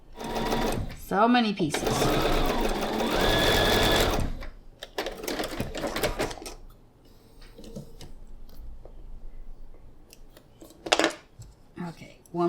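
A sewing machine stitching quilt block rows together: a loud whirring run of stitches near the start, then shorter bursts and fabric handling, with a person talking briefly.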